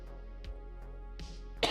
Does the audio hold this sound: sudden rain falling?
no